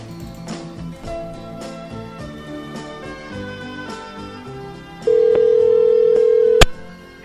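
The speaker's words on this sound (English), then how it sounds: "let me dial him again right now" A telephone being dialed to call a guest during a show: a long steady dial tone sounds, then a quick sharp click cuts it off. Musical background plays underneath throughout, and no one speaks.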